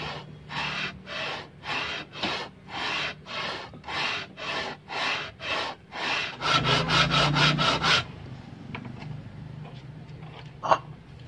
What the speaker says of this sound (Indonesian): Sambil digeser ya, sistemnya dorong, amplas dorong ya.